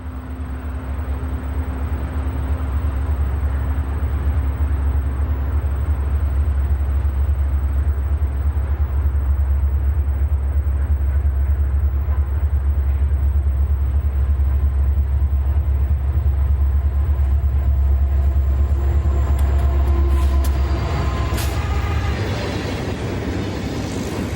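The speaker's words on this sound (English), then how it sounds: "an empty coal train is viewed as it passes through Hayesville" An empty coal train of hopper cars rushes east through Hayesville, its low steady rumble and rail noise loud and continuous throughout, with a faint high whine and some sharper clatter building near the end.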